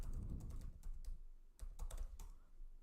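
Computer keyboard keys click in quick irregular bursts as a password is typed into a terminal, close and fairly quiet, with no talking.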